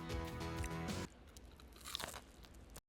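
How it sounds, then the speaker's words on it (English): A McDonald's chicken wing in Spain is bitten close to the microphone, giving a loud crisp crunch at the start, followed by quieter chewing and crackling. "Did y'all just hear that crunch?"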